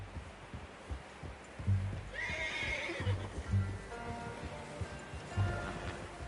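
A horse in Red Dead Redemption 2 whinnies loudly mid-clip while hooves clip-clop in a slow uneven rhythm, against quiet outdoor ambience with rustling.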